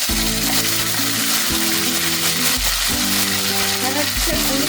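Ground green chilli paste sautés in oil tempered with mustard seeds and asafoetida for green chilli thokku, a loud, close, continuous sizzle with low rumbling hum beneath and occasional stirring knocks.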